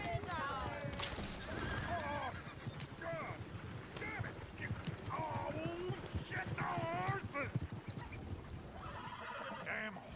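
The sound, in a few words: horses neighing and hooves, from video game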